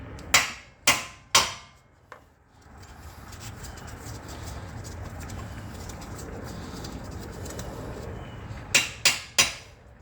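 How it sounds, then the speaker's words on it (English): Three sharp hammer blows ring out on the center of a driver-side CV axle to drive it out of the hub of a 2008 Nissan Altima, followed by low rumbling noise, then three more quick strikes. "get your trusty big boy hammer and just smack the center here to take the axle out of the hub assembly"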